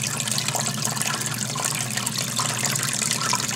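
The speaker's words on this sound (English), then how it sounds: "External box will slowly fill again to the point where it starts going full siphon" Water rushes and gurgles steadily in a reef aquarium overflow box as it refills and builds toward full siphon, with a low hum underneath. The sound is continuous, close and fairly loud, and nobody speaks.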